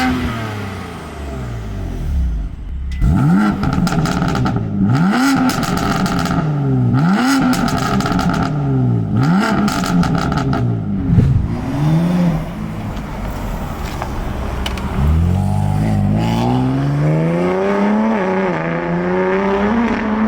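A BMW F80 M3 Competition on new springs driving outside, its engine and exhaust loud and close, rising through repeated rev sweeps and gear changes, then pulling steadily under acceleration, with no talk.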